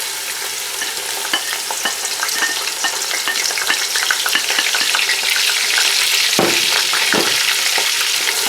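Chopped onions sizzling in a pot of hot oil (about a cup) on the stove, a steady loud frying hiss with crackles and occasional stirring scrapes, no voices.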